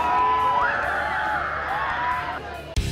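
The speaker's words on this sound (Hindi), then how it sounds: "यहां वरुण की एक झलक पाने के लिए फैंस की भारी भीड़ इकट्ठी हो गई" A large crowd of fans cheering and screaming for actor Varun Dhawan at Juhu Beach in Mumbai during a beach clean-up drive, a loud sustained roar with high shrieks that breaks off sharply near the end.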